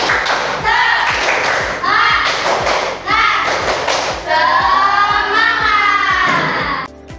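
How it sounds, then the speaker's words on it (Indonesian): Schoolchildren in a classroom perform a rhythmic spirit clap, with steady hand claps and thumps in a regular beat under loud chanted voices across the room. "Tepuk semangat!"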